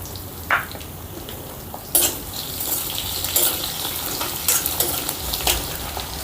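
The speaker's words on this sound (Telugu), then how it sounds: "ఇప్పుడు సన్నగా తరిగి పెట్టుకున్న ఒక 20 వెల్లుల్లి రెబ్బల్ని ఇందులో వేస్తున్నాం" About twenty finely chopped garlic cloves sizzle and crackle steadily in hot tempering oil with curry leaves, a dense continuous frying hiss broken by a few louder pops and stirs.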